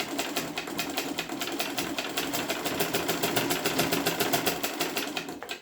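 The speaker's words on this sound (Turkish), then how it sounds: "Daha sonra ayağımızla basmaya başladık." A Zetina foot-pedal manual sewing machine on a table, stitching in a fast, regular train of mechanical clacks with a rhythmic pulsing drive from the treadle, steady and close, with no speech.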